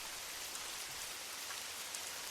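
Steady rain falling on a Paris evening, an even wash of patter on surfaces, soft and continuous with no voices.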